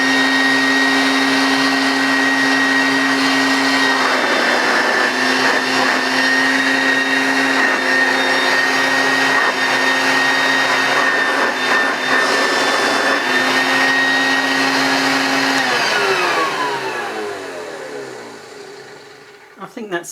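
A Hoover Junior U1036 upright vacuum cleaner, run with its belt detached, drones loudly at a steady high pitch for most of the stretch, then powers down, the whine sliding lower and fading out near the end.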